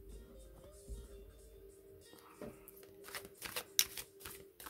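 Oracle cards are shuffled close up in a soft, steady riffling patter that builds to a brisker flurry near the end, with faint voice sounds in the background.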